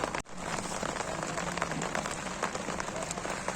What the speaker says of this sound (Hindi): आज बारिश हो रही है गजब की